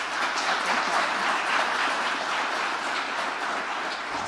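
Thunderous applause fills a gun violence townhall hall, a dense, steady wash of many hands clapping at once that holds loud and even for several seconds without any voices breaking through.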